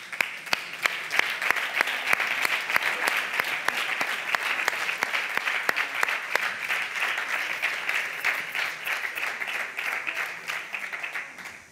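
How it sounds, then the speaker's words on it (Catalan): Sustained applause from a studio audience at a live Catalan TV show, dense steady clapping that swells and holds for over ten seconds with no talk over it. "Por aplaudiment."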